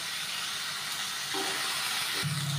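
Small fish go into fried spice paste in a hot pan, giving a steady broadband sizzle throughout that swells slightly midway, with a low hum entering near the end and no talking.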